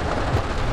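Rain pours down steadily at the AirBeatOne summer music festival, a dense, continuous hiss of falling drops, loud and unbroken across the short moment.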